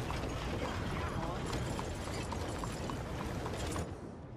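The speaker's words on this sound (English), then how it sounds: "good-looking horse there" Horse hooves clip-clop steadily in Red Dead Redemption II, a regular beat of strikes that runs through dense game ambience before fading near the end.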